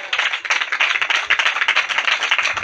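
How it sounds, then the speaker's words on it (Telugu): A church congregation clapping in praise to God: rapid, dense, fairly loud rhythmic handclaps from many people, continuous throughout without speech. "నమ్మిన వారు చప్పట్లు కొడుతూ దేవునికి స్తోత్రం చెప్పండి"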